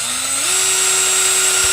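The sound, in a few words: drill boring a 3/8 hole for poultry watering cups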